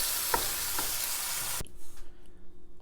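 Ground turkey frying in a pan gives a steady, bright sizzle with a few soft knocks as a masher breaks it up, before the sizzle cuts off into quieter low thumps.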